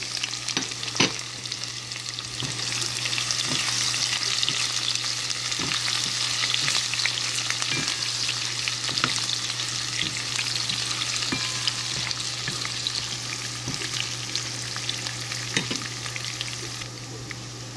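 Garlic and onion fry in a pan, a steady bright sizzle lasting the whole stretch with scattered clicks and scrapes from stirring, close and moderately loud with no talk.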